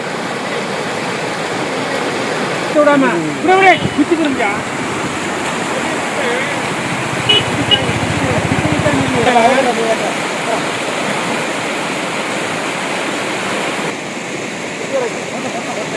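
Floodwater pours over a low causeway bridge with a constant loud rushing roar, while a voice talks briefly over the flow in the middle.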